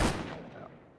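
A single loud gunshot from a shotgun or pistol in a video game booms close by, then trails off in a fading echo over about a second.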